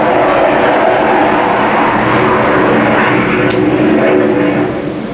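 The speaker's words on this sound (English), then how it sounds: "And there goes one of the planes." A loud, steady airplane engine roar fills the whole stretch, a broad droning rumble overhead near the Academy of Art University campus that eases off slightly at the end.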